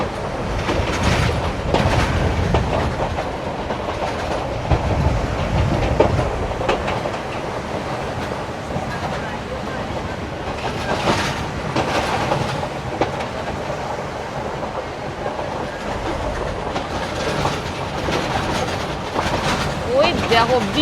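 A train runs along the coastal line toward Colombo near Hikkaduwa, heard from inside with a continuous loud rumble and clickety-clack of wheels over rails, while people talk intermittently on board.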